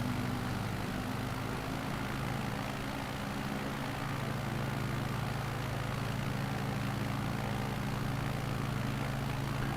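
A propeller aircraft engine drones at full throttle in Microsoft Flight Simulator 2020, a loud steady hum with a constant pitch that holds unbroken from start to finish.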